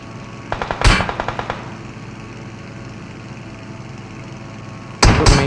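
Enemy gunfire in the video game BGMI comes in a loud rapid burst of automatic shots, then quiet engine-like hum, and another burst erupts near the end.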